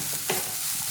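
Grated coconut and sugar are stirred in a pan as the sugar melts, giving a brief scrape of the spoon over a soft, faint sizzle, with no talking.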